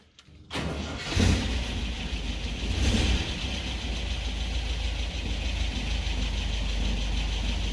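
A 1974.5 MG MGB engine cranks and catches, then settles into a steady, close idle that continues alone to the end.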